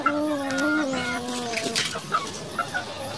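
Laying hens in a chicken coop cluck and call steadily, one drawn-out tonal cackle up front followed by scattered shorter clucks from several birds nearby over a constant barn hum.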